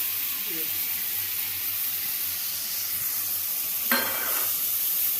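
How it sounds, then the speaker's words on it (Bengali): Chopped onion fries in hot mustard oil with a loud, continuous hissing sizzle, close up, with one brief sharper burst of crackle partway through. "এবার আমি মাছ ভাজার তেলেই 5 ফোড়ন আর শুকনো লঙ্কা দিয়ে দিলাম, পেঁয়াজ কুচো দিয়ে"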